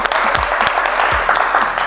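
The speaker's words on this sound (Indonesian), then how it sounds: "Tepuk tangan untuk teman kalian dulu." A classroom of students clapping for a classmate, a brisk burst of dense applause at steady loudness with scattered individual claps standing out.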